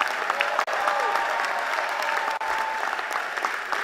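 Steady, dense audience applause fills a university presidential installation ceremony at Bowie State University, continuous hand clapping from a large crowd with no pauses.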